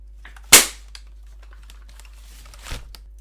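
A springer toy spring shotgun fires once with a sharp, loud snap, followed by faint clicks and a softer mechanical clack near the end as it is handled.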